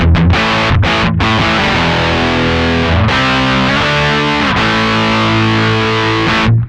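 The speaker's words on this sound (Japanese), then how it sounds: "アンプの方で歪ませてみたいと思います。 ちょっと強めに。" Electric guitar overdriven hard through the amp's own distortion, with a BOSS CP-1X compressor in the chain; a few struck chords ring out thick and sustained, loud and close, with no talking.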